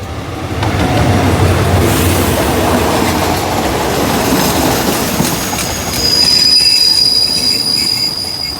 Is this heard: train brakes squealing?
yes